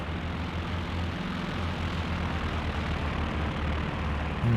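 Propeller planes flying overhead in Company of Heroes 2: a loud, continuous droning engine hum with a pulsing low tone, no voices.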